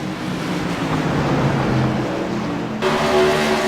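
A CRA modified race car roars out of turn four at Five Flags Speedway, a steady loud engine drone with crowd and track ambience, the tone shifting near the end as the car passes.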